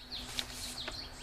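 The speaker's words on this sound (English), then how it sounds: "Well, you can hear the birds probably in the background right now." Small birds chirp faintly in the background outdoors during a spell of rainy weather, a few thin high calls over a steady wash of rain-like noise.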